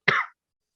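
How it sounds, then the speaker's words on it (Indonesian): A single short, sharp cough from a person close by during a spoken physics lesson, followed by silence. "Mohon maaf, agak batuk saya."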